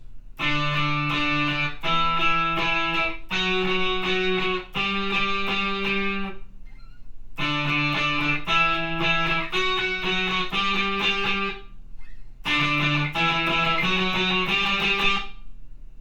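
Distorted electric guitar plays sustained octave notes from a song in repeated groups, sliding up in pitch, loud and thick with short breaks between phrases.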